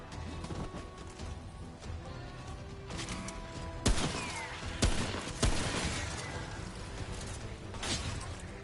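Gunshots in the action shooter Remnant From The Ashes, several sharp, fairly loud cracks spaced irregularly over a busy background of combat noise and game effects, with no clear talking.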